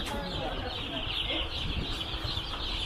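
Chickens cluck in a box, a dense murmur of overlapping clucks and chirps that runs steadily with farmyard background noise.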